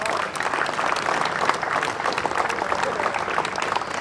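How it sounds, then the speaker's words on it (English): Audience at the closing ceremony of the Harris Shield cricket tournament final, clapping in a dense, steady round of applause that fills the whole stretch, with some crowd murmur mixed in. "please give him a big round of applause."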